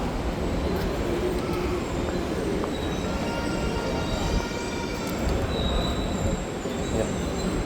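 The Tegal Bahari business-class train rolls into a station platform, wheels squealing and metallic screeches layered over a loud, steady rumble of railcars passing close by.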